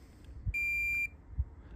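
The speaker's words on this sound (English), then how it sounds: "We want to go on the side of them and hear them beep." A multimeter continuity test on a Valeo alternator stator winding gives one clear, high, steady electronic beep of about half a second, with soft clicks of the probes before and after.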